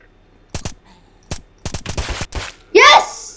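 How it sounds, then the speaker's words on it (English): Gunfire at zombies in the video game Apocalypse Rising 2: several separate sharp shots and short bursts ring out, followed by a loud rising electronic swoop near the end. "I shot him like 5 times, Sexy."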